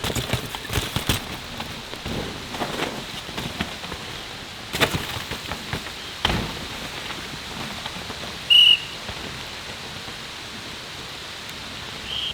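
Rain falling on a wet downhill mountain bike course at the Mont-Sainte-Anne world championships, a steady soft hiss with scattered drop impacts, a few sharper bursts and a brief whistle-like tone, no talking.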